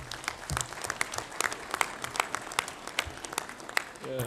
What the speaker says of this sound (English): Let's clap hands for him as well.